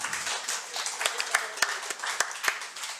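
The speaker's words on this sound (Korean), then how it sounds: "박수 한번 치세요. 박수." A church congregation claps together, a brief scattered burst of hand claps with sharp individual slaps standing out, rather faint and slightly distant, with murmured voices mixed in.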